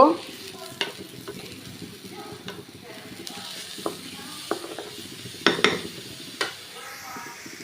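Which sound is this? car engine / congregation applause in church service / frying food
frying food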